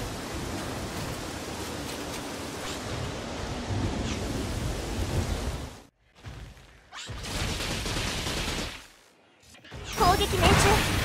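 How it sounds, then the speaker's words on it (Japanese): Heavy rain pours down in the Synduality mech survival shooter, a dense, loud, steady hiss that cuts out abruptly twice before surging back. "雨足が強まってきました。 雨量増加していますが、まだ大丈夫です。"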